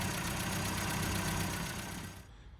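A car engine runs steadily at part throttle during fuel tuning, a dense, close, continuous drone that holds even for a couple of seconds and then eases off and fades near the end.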